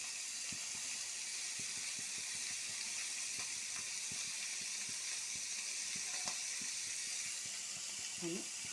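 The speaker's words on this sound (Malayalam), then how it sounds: "ഇനി നല്ലവണ്ണം പൊരിച്ചിട്ട് കാണിച്ചു തരാം" Food fries in a pan with a soft, steady sizzle and occasional small pops and crackles, faint and close with no voices.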